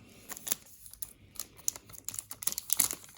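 Crisp snipping and crinkling of a Panini Revolution basketball card pack's plastic wrapper as scissors cut through it, a series of sharp close-up clicks and rustles, no talking.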